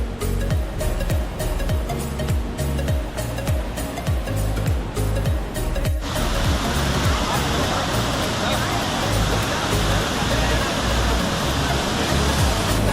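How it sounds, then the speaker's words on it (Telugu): A waterfall in Wayanad, Kerala rushes as a dense, continuous broadband roar that swells noticeably louder midway through, as if drawing closer, while people talk over it. "వాటర్ ఫాల్ అయితే మంచిగా ఉంది"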